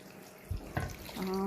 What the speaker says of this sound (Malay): Letak air.